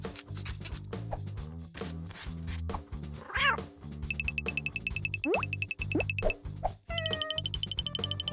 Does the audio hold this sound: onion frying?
no